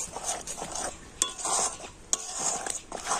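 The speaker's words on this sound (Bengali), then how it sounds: "আমি একইভাবে হালকা জাল দিয়ে কন্টিনিউ এইভাবে নাড়াচাড়া করে নেব" A spoon stirs a sweet yogurt mixture in a pan over low heat, scraping and swishing in an uneven rhythm, with two sharp metallic clinks against the pan.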